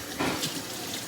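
Cold tap water runs over marimo moss balls being rinsed, a short steady splashing stream at close range with no voices.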